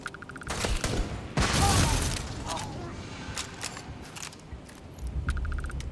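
Gunfire from a gun in the space game Starfield: a sharp burst of shots around the middle, with a heavy boom and scattered impacts and clicks around it, close and loud over background game noise and occasional talk.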